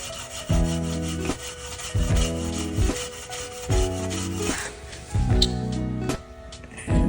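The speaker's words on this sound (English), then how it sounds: "take our steel wool, and you're gonna have to apply a little bit of pressure depending on how much rust and how deep the rust is" Steel wool rubbed firmly over rusty chrome in four or five long back-and-forth bursts of close, gritty scraping, each separated by brief pauses, with a soft tonal hum underneath.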